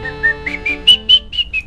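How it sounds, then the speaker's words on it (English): A person whistles a short tune of about eight clear, close notes in a quick rhythm that climbs slightly in pitch, with no talking. "I can whistle now, though."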